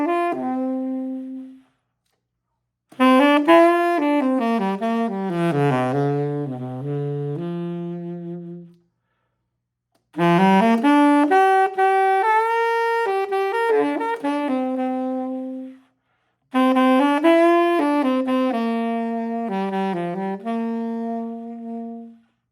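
A solo saxophone plays three expressive melodic phrases, each ending on a held note and separated by short silences, close and clear with no other sounds.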